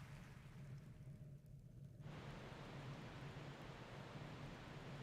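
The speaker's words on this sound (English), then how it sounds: "The raindrops sound like applause." Steady rain falls in the video game Wind Waker HD, a soft, continuous hiss of droplets that holds an even level throughout with no voices.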